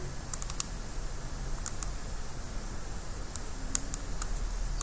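Soft keyboard typing in a quiet room: a few scattered light key clicks in small bursts over a steady background hiss, no voices.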